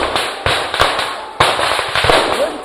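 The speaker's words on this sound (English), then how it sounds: "Gunshots are fired" Gunshots crack out during a mock military operation in a jungle, several sharp, loud reports at irregular intervals over a constant background hiss.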